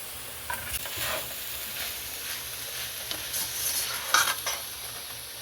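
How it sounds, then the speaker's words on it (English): Shrimp fried rice with white pepper sizzling steadily in a hot pan, stirred with intermittent scraping strokes, close and continuous with no talking. "the rice just needs to come together and fry a little bit"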